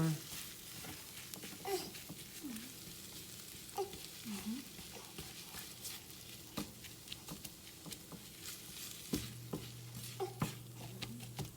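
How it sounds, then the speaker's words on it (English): Soft, steady sizzling of scrambled eggs cooking in a pan, with stirring scrapes and occasional light taps, and a voice speaking faintly at times. "start sizzling a little bit"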